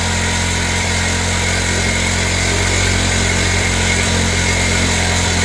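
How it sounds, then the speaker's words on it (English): Small 49cc scooter engine running steadily at idle, loud and close, with a buzzing, even drone that holds without change throughout. "So I'll let it sit and run for a while and go grab some lunch."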